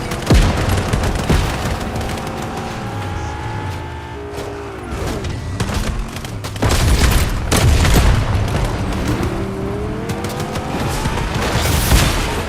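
Gunfire and heavy booms during a chaotic firefight, with repeated sharp shots and thuds over a constant engine-like rumble and sweeping tones, loud and close throughout.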